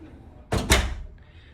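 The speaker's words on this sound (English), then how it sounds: "watch the door close" A hotel room door at the Hyatt Regency Orlando International Airport swings shut with a loud close thud and a quick second latch knock, followed by a faint high whine.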